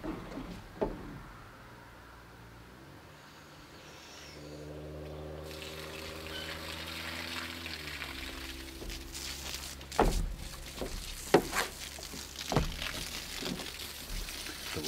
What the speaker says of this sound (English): The water is on.